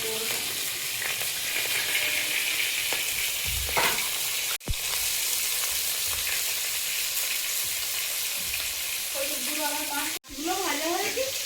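Chillies frying in hot oil in a pan for a Bengali kasundi fish dish, a steady close sizzle throughout with two brief breaks, and faint voices near the end.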